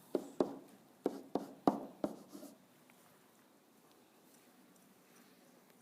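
A pen or pencil taps and scratches on paper while writing a logarithmic equation by hand, a cluster of distinct close strokes over about two seconds, then near quiet.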